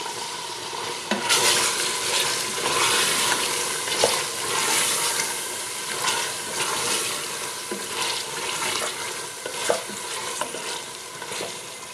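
Peshawari namkeen gosht with whole green chillies and coriander is stirred in a pot, giving a steady close sizzle throughout with repeated scraping strokes and light clinks of the spoon. There is no talking.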